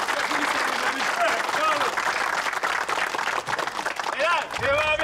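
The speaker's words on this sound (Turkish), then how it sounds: "Evet, muhtarımız için kocaman bir alkış." A crowd gives the village headman a big round of applause, dense steady clapping filling the whole stretch with voices and cheers rising over it.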